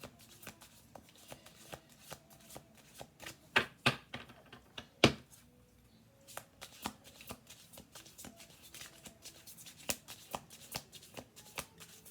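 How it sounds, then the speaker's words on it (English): Rapid, crisp riffling of a deck of playing cards being shuffled, in quick clicking bursts with short pauses between them, close and fairly quiet. "We'll do two more shuffle throughs after this one."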